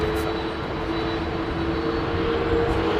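An Airbus A300 jet departs Heathrow runway 27R, its engines producing a loud, sustained roar with a steady whine layered on top, heard alone and close.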